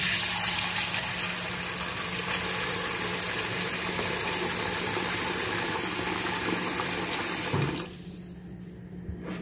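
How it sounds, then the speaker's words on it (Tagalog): Water pours steadily into a pot holding chicken, a loud continuous splashing rush that stops abruptly near the end, leaving quiet room tone. "saglit lagyan natin ng tubig"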